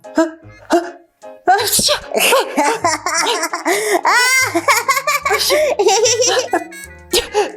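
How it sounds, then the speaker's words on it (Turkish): A sneeze follows sniffing a flower that was dusted with black pepper, bursting out amid lively laughter and the chatter of children's voices. "Nasıl da hapşırttırdım sizi ama."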